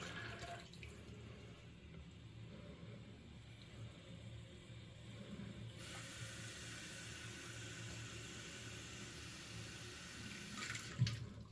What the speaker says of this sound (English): we're just going to fill it up with some hot water